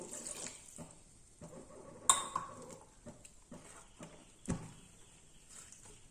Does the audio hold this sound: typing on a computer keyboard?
no